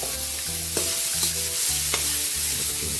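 Pork sautéing and being stirred in a pan, a steady sizzle with repeated scraping strokes of the utensil across about three seconds, close and fairly loud with no talking.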